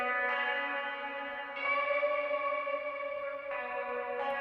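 Lush, heavily reverberant tones processed through the United Plugins Verbum reverb plugin, sustained bell-like chords that swell and shift in three sections with long echoing tails, alone with no voices.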